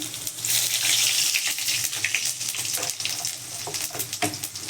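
Steady crackling sizzle of cumin seeds hitting hot oil, close and fairly loud, with rapid popping spatters that continue throughout.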